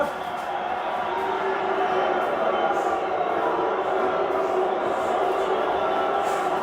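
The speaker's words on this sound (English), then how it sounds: "Crowd getting on Bonavena." Dense, steady roar of a boxing arena crowd, the jeering aimed at Argentine heavyweight Oscar Bonavena late in a round against Floyd Patterson, a continuous wash of many voices with no clear pauses.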